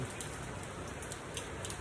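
Steady rain pours continuously as a dense, even hiss, with scattered drop patters and no voices.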